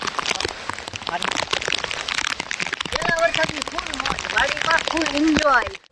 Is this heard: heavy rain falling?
yes